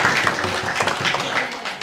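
Audience at a Ramkatha religious gathering clapping together, a dense, steady patter of many hands close by, with no voices over it.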